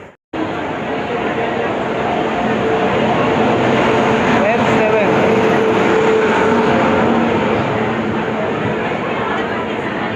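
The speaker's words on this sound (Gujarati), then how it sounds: "ભાઈ આવી ગઈ આપણી ટ્રેન" Saurashtra Mail 22945 passenger train pulling into a station platform, a loud, continuous rumble of rolling wagons that holds steady throughout, with voices talking over it.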